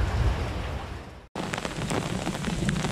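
Heavy rain pours steadily down on a street along the Camino del Norte in Spain, a dense, loud hiss that breaks for an instant, with no talking.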